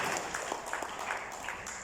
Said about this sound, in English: A round of applause for K-Swag doing a wonderful job this evening